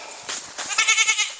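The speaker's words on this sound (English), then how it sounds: "and goats." Goats bleating in a Southern Indian Ocean island caldera, several loud, wavering, nasal bleats in quick succession close by.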